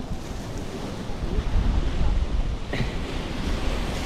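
Sea waves wash over a rocky shore at a coastal campsite in Turnalı, Muğla, a steady rushing surge that swells and recedes, close and continuous, mixed with gusty wind buffeting the microphone.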